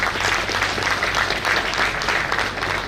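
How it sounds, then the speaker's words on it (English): Graduates and guests at an engineering college graduation ceremony give a big, sustained round of clapping, a dense crowd-wide patter with a faint murmur mixed in. "A big round of applause."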